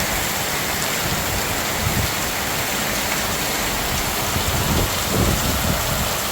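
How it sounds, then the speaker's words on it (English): Heavy rain pouring down in hot weather, a loud, steady, dense hiss of water hitting surfaces with no pauses and no voices. "Dude, it is pouring. I mean, it is dumping gallons and gallons."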